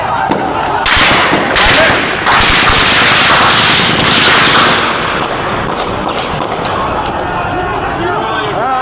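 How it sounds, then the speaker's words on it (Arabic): Loud, rapid bursts of gunfire crackling in quick succession in Daraa, Syria, with voices talking over the shooting. "بلش اطلاق النار، سامع؟"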